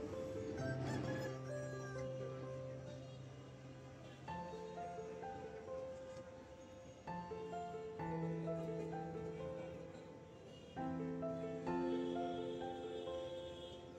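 Aseel roosters and other fowl at the Monday Dewanhat bird and poultry market, heard as several long drawn-out calls and crows at moderate distance against a faint market hubbub.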